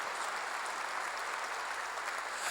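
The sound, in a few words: church congregation applause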